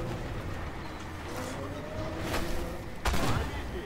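Tank cannon fire in the video game Armored Warfare, with sharp booms over constant battle rumble, a prominent shot near the end, and a voice briefly in the background.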